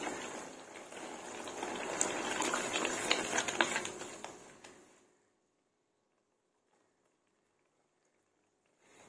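Spice paste going into simmering tomato puree for a spicy restaurant-style veg Kolhapuri gives a loud, steady bubbling sizzle for about five seconds, then the pan falls almost silent.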